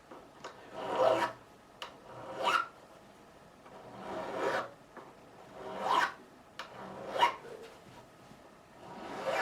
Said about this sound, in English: I'll do this side, then I'll turn the guitar around and I'll do the other side. Just take the sharpness off the edges of these frets